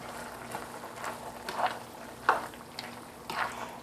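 Soft scraping and clinking of a utensil stirring sausage pasta in a pan, a few gentle strokes over a low simmering bubble, fairly quiet and close.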